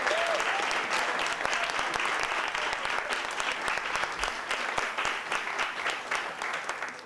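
Another round of steady, full applause from a middle school audience for a student, dense clapping sustained throughout at an even level.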